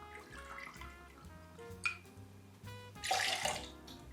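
Outlier Distillery rum poured into a cocktail shaker for a daiquiri, about 45 ml, a close, continuous liquid gurgle and splash that swells briefly louder near the end, with no voices.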